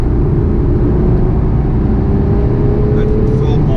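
An Aston Martin Vanquish Volante runs at full throttle with a loud, dense engine roar and a steady pitch line, heard from the cabin, with a brief change near the end that may be an upshift.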